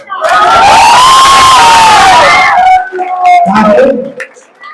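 A large crowd at an election rally roars and cheers loudly, a sustained swell of shouting voices that fades into scattered calls and whistles.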